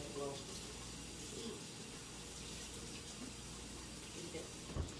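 Tap water running over a dirty grater at a kitchen sink, a steady soft splashing stream that continues for several seconds, with a brief clatter near the end.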